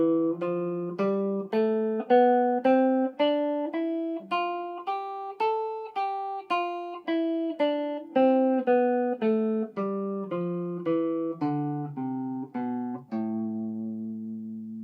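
A natural minor scale played on guitar in its final fingering shape, with the notes climbing and then descending in an even, steady rhythm. Each pluck rings clearly with no talking, and the closing note is held and allowed to ring out.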